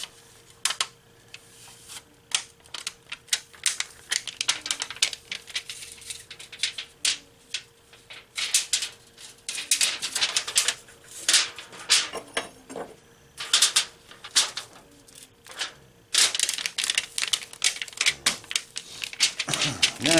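Aluminium foil being folded around a knife for heat treating, a series of crinkling, crackling rustles in irregular bursts, close by, with a steady faint hum behind it.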